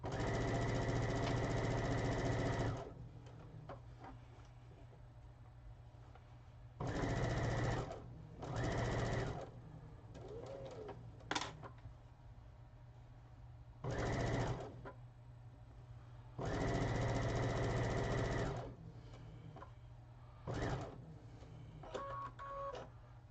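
A sewing machine stitches quilt border fabric in repeated bursts of rapid whirring, each run lasting a few seconds and separated by quieter pauses with small clicks and shifts.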